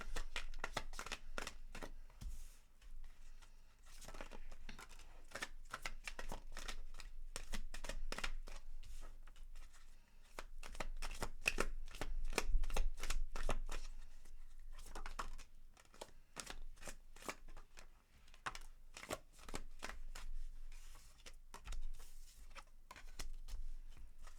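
Tarot cards being shuffled by hand, a long run of crisp riffling and flicking bursts in an irregular rhythm, close and fairly quiet, with no talk.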